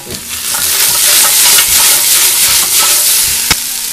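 Carrots cut at an angle, unpeeled, sizzle and fry in a pan over medium heat, a steady broad hiss with occasional clicks and stirring taps, close and fairly loud, no talking.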